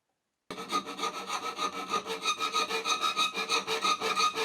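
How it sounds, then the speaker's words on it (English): Sandpaper rubs back and forth over a handmade wooden hinged box, a rhythmic, close scratching in quick regular strokes after a moment of silence. "I give it a nice sanding."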